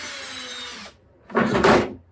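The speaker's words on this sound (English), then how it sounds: "a pair of pliers so I can hold the nut while I unscrew it out" A bolt is unscrewed from a T-Bone Racing roll cage on an Arrma Outcast 8S EXB RC car while the nut is held with pliers, giving two short, close scraping, grinding bursts separated by a brief pause.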